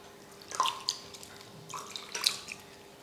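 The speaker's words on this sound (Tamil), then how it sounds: "இப்படி துணியை வந்து திருப்பி போட்டு இதுக்கு மேலே தண்ணி வந்து தெளிச்சிடுங்க" Water is sprinkled by hand over a flipped cloth holding sun-dried murukku vathal (vadagam) made from ration rice. Faint, scattered drips and light patters are heard close by in a quiet room, with no talking.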